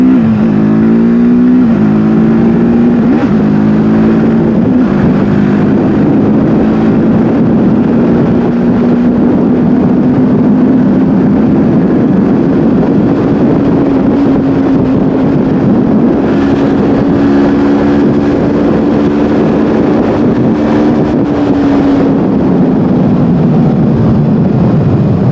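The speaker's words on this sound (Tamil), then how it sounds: "இப்போ வண்டியோட டாப் ஸ்பீடு பார்த்துடலாம்." A TVS Apache RTR 310 motorcycle accelerates toward top speed, its loud engine drone climbing in pitch through several gear changes over heavy wind rush before easing off near the end.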